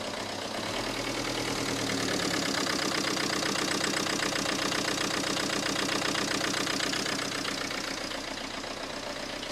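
A 2017 car engine idles with a rough, uneven pulse, an occasional chuff and misfire, and a slight turbo blow, heard close and steady with no talking over it.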